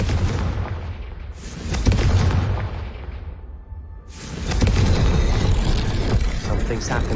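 The Confringo fire spell in Hogwarts Legacy bursts into rumbling booms with whooshing blasts, dropping away briefly before another loud, sustained explosive roar; a voice talks during the action.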